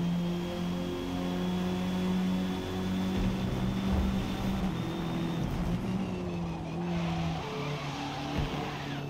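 Race car in Forza Motorsport, a B Class Neon in a four-car battle: steady engine drone with gear-change tones, tyres squealing and skidding through a corner, loud and continuous with no talk.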